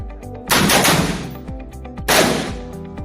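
Two loud bursts of gunfire in a close-quarters combat drill, each a rapid string of shots with ringing decay, close and dominant, separated by about a second and a half of quieter background.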